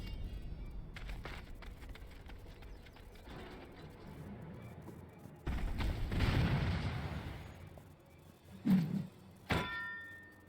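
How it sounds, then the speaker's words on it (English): Distant explosions in Final Fantasy XIV boom and rumble, a long low blast followed by a couple of shorter thuds, heard without speech over them. "Explosions off in the distance."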